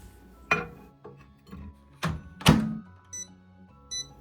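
Microwave oven timer being set: a series of soft thunks and clicks from handling the door and panel, followed by short high electronic beeps near the end, quiet and close.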